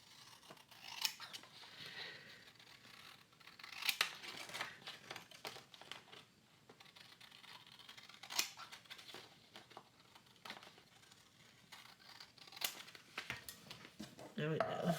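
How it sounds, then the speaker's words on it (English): Scissors snip through journal paper in repeated crisp cuts across the page, with rustling paper between strokes and a voice talking over the cutting. "Let's cut this all the way across."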